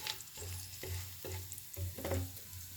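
Whole spices (cloves, black pepper, black cardamom, bay leaf, cumin) sizzle and fry in hot ghee for a spinach dum aloo curry, with a steady crackle broken by regular stirring scrapes and no voices.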